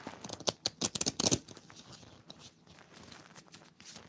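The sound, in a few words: shuffling a deck of playing cards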